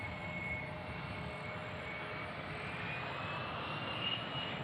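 A Contour Airlines regional airliner departing Nashville International Airport gives a steady, broadband engine roar at moderate distance, continuous throughout with no voices.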